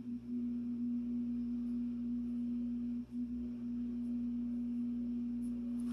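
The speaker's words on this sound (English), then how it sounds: "That noise you hear, this is my washing machine." A washing machine's low, steady motor hum drones without a break, with a strong tonal buzz and a brief dip partway through; no one speaks.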